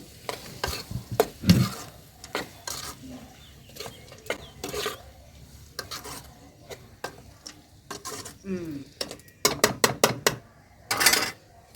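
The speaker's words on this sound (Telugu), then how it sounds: "పసుపు ఒకసారి కలిపి మూత ముచ్చుదామండి" Drumstick curry with turmeric being stirred in a pan, village style, with intermittent scraping strokes and clinks of the spoon over a soft sizzle, and a few sharp bursts of activity near the end.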